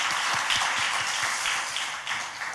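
Brief burst of congregational applause inside a church during a Korean-language service, dense and even, lasting a couple of seconds without speech.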